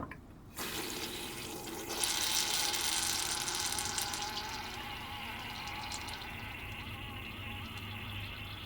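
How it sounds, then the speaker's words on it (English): Water runs into the bowl valve of a Dometic 310 RV toilet, a steady rushing fill that swells after a brief start and holds loud and close for several seconds. "So we're going to just push down on this a little bit, start getting our water filled up in the valve."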